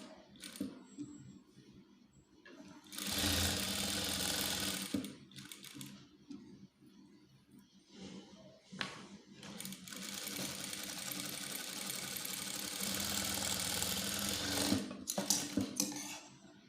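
A sewing machine stitches a blouse neckline in bursts, its rapid close whirring runs starting and stopping with short pauses between, fairly quiet overall with small clicks of handling in the gaps.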